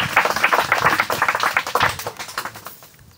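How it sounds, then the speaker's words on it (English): An audience claps together in a gathering at a breakfast prayer event, a dense, even patter of hands that tapers off and stops near the end. "Can we clap for ourselves?"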